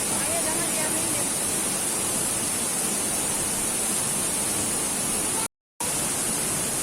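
Steady broadband rush of water from the Segenter waterfall, loud and constant throughout, cut off by a short gap near the end.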